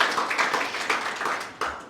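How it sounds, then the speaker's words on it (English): An audience at a book launch event claps in a round of applause, a moderately close patter of several hands that fades out and picks up briefly again near the end. "come on, round of applause"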